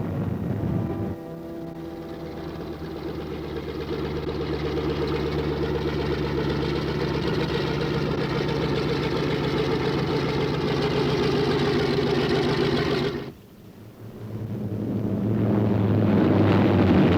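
B-26 bomber engines drone steadily with a dense, layered roar, briefly dropping away before surging back up, continuous and fairly loud without any voices.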